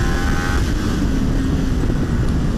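A 2018 Kawasaki Ninja 1000 on a race track pulls hard under rolling throttle, its engine a loud, close, sustained roar that holds steady throughout.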